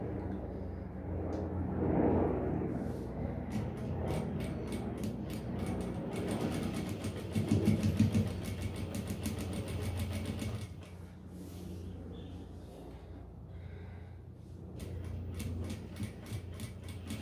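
A sewing machine stitches fabric for a patchwork bread cover, running slowly in a steady, close, fine mechanical whir with rapid needle ticks and one brief louder surge.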